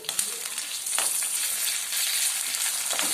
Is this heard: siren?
no